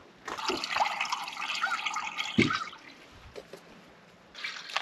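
A van's gray water tank drains: water gushes and splashes for a few seconds, then trickles and drips, with a final short surge of flow.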